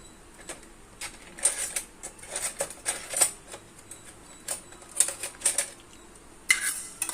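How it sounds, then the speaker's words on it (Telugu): Mustard seeds roast in a dry pan while a spoon stirs them, making rapid irregular clicking and rattling scrapes at close range with short louder bursts. "ఇవి ఇలాగా ఫ్రై చేసి కొంచెం అలా వేపుకోవాలి"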